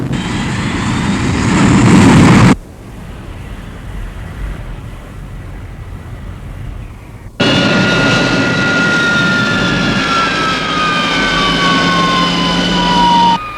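A fast-landing aircraft with full flaps rushes past loudly with a howling engine roar, drops away briefly, then returns with rising and falling whining tones as the brake parachute phase begins; no voices.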